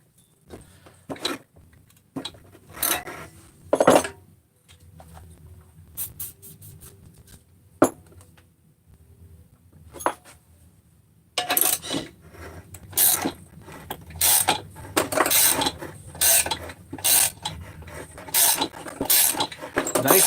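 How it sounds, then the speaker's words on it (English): A K-splitter tool pulling the bearings off the crank of a Bobs 288s engine, with a run of sharp metallic clicks and ratcheting snaps, sparse at first and then coming in quick bursts. "Nice thing about the K-splitter is that it pulls the bearings off the crank"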